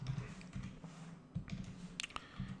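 Keys clatter on a computer keyboard in scattered bursts of close, quiet taps, with a few sharper clicks standing out near the end.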